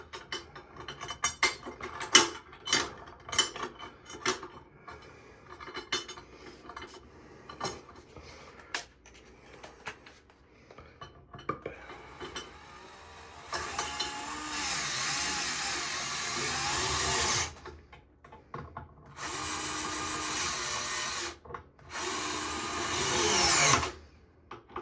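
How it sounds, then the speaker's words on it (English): A power drill drives screws into a DEWALT DWST560106 tool tote, first irregular clicks and ratcheting handling, then several sustained whirring bursts of the drill, close and moderately loud, no voices. "Run some screws in."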